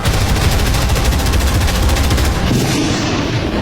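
Dense, rapid bursts of gunfire rattle continuously with heavy booming underneath, loud and close, like machine guns firing alongside mortar blasts.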